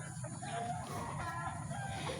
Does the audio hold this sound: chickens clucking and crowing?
yes